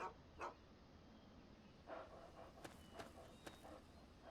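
A dog in the Fallout 3 video game gives a few short, scattered barks and yips, with soft footstep-like taps between them and no talking over it.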